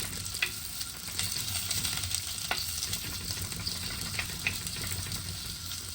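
Onions sauté in a pan for a Sri Lankan-style fish curry made without coconut milk, giving a steady close sizzle with occasional spatula clicks and scrapes throughout.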